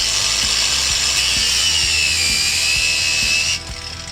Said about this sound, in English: I'm going to use the angle grinder on the new hose.